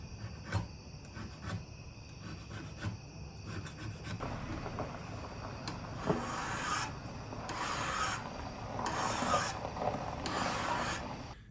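Metal file scraping a hand-forged steel drop point knife blade coated in hard fire scale, close and moderately loud, in repeated rasping strokes that grow longer and stronger toward the end.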